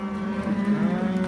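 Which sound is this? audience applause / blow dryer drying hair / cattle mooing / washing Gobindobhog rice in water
cattle mooing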